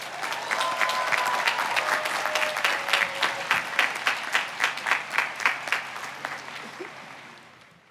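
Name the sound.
commencement audience applauding the valedictorians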